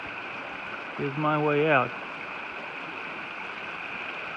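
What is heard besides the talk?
water flowing from a spring in a drainage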